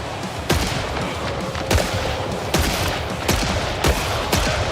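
Gunslinger in Killing Floor 3 lands headshots as loud single gunshots at a steady pace, about one every second, over a constant rumble of in-game combat noise.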